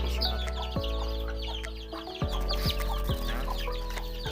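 Backyard chickens clucking close by, a busy overlapping chorus of short clucks and calls with a few sharper bursts, loud and without any talking.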